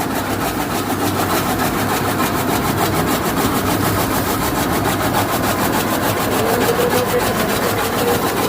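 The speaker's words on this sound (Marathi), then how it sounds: "चौथी पेंडी आपण टाकलेली या मशीनमध्ये ही कुठेही अडकत नाही काहीच होत नाही" A motorised chaff cutter chops bundles of fodder, a steady loud engine drone with rapid rhythmic blade clatter running continuously and close, with no voices.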